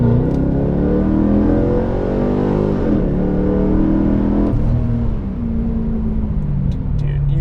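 A Pontiac G8 GXP V8 sedan accelerating hard, its engine roaring loud and steady with rising pitch and a brief shift dip partway through, heard close with no talking.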